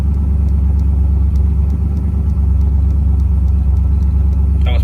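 A vehicle engine idles high with a loud, steady low rumble and continuous throb, close by and unchanging, with a faint rhythmic ticking above it.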